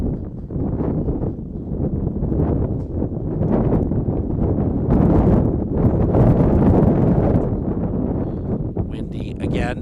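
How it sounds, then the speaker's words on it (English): Strong wind buffets the microphone at a baseball field, a loud continuous roar with gusts swelling and easing throughout, and faint voices beneath. "Windy again. Every so often it dies down, then it comes back up like this."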